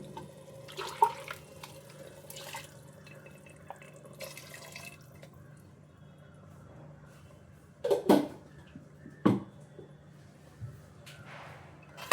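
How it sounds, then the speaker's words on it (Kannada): Water trickles and drips into a mixer jar during home cooking of menthe bath, faint and close, with a few brief, slightly louder splashes near the end. "ಜಾರ್ಗೆ ನೀರು ಹಾಕೋತಾ ಇದ್ದೀನಿ"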